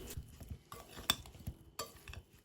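Utensils scrape and clink against a bowl in short, irregular strokes as a radish salad with oil is stirred, close by with no talking.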